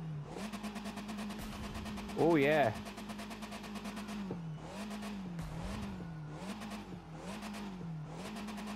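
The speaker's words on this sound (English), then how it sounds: "Can you hear some revs of this power beast?" A Fiat 500 Abarth engine in the video game The Crew 2 idles with a steady hum, then gives one sharp loud rev before settling back to a wavering idle. Someone speaks briefly over it.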